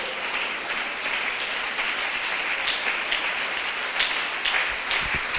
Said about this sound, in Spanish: Dele un aplauso al Señor si me está escuchando.